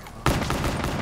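A sudden pistol shot in Black Ops 3 Zombies, followed by a short rattle of further fire and reverberation, loud and close within a brief moment.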